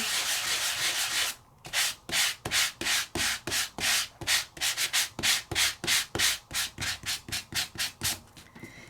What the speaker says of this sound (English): So if I do a light sanding